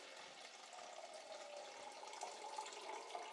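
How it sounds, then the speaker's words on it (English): Water drains from a toilet tank in a faint, steady rushing trickle that continues throughout. "Water will start coming out of the hole."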